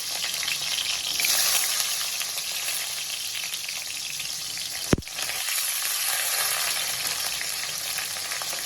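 Onions and curry leaves frying in oil with cinnamon and fennel, a steady close hiss of sizzling that carries on with one sharp knock partway through.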